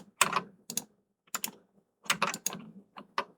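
Computer keyboard keys pressed in short bursts of several quick clicks, separated by brief pauses, close and clear with no talking.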